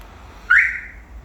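A smartphone car alarm system fitted to a Daewoo Prima gives one short, bright electronic chirp as the doors lock, close and alone over a quiet background.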